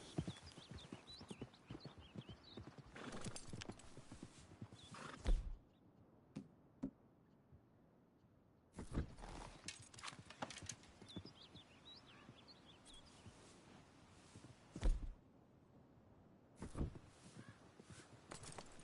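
Horse hooves clip-clopping at a brisk pace in the Red Dead Redemption video game on PS5, loud and near in bursts separated by short pauses, with occasional snorts and no talking.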